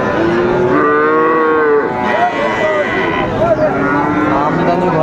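A Friesian or crossbred bull calf moos loudly and close at the Raniganj cattle market, a long drawn-out call followed by shorter lowing, with the busy market noise underneath.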